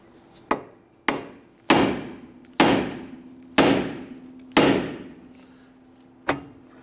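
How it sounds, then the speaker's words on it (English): Hammer striking the steering knuckle of a 2011-2021 Jeep Grand Cherokee to free the ball joint, seven sharp metallic blows at a steady pace, each ringing briefly before decaying. "use your hammer, strike the knuckle"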